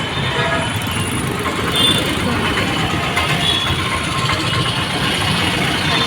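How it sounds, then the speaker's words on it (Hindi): A train passes close by with a steady, loud rumble of railcars and faint wheel squeal, a continuous roar that holds its level throughout. "अभी गया वो ट्रेन। अच्छा अभी गया।"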